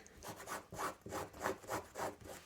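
A pumice stone scrubs back and forth across fabric to age it, making about eight quiet, rough rasping strokes in a steady rhythm, heard close with no voices.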